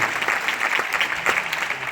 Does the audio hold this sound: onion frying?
no